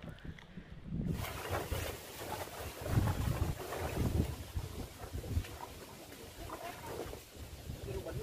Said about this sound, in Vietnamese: Sóng gió.